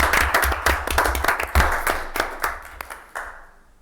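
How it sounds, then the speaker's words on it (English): A small group at a board meeting breaks into a short round of applause, dense clapping at first that thins out and fades after a few seconds. "let's have a round of applause"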